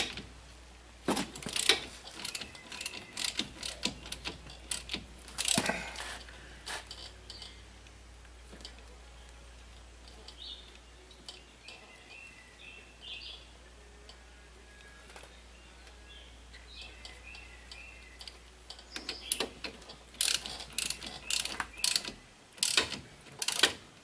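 A ratchet clicks in quick bursts while tightening bolts on a 1993 Saturn during a front brake replacement, busy near the start and again at the end, with a quieter stretch between.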